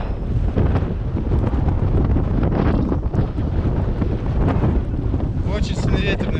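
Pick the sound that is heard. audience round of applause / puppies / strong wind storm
strong wind storm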